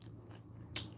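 A single crisp crunchy bite into fried food lands near the end, close and fairly quiet, after a couple of fainter soft crunches.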